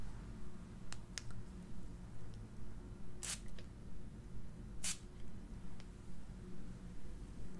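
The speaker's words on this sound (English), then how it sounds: "They come in aromatherapy sprays, and I'm going to first spray one in the air" An aromatherapy spray bottle is pumped into the air in two short, soft hissing bursts a couple of seconds apart, close and quiet over a low background hum, with a few faint clicks.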